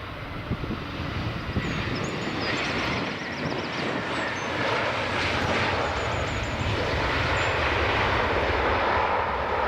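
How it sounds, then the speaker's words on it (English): An EasyJet Airbus A320neo jet airliner at an airport passes with a continuous, loud broadband engine roar that swells gently, with faint bird chirps above it and no talking. "EasyJet A320neo, I think."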